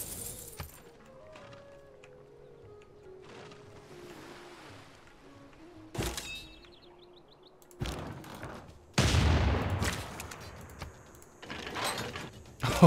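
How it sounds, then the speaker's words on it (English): Artillery fire in Civilization VI, heard as several sharp, loud broadband blasts and rumbling impacts spread across the stretch, over a quieter bed of game ambience and music. "Oh wow, that artillery is just ridiculous."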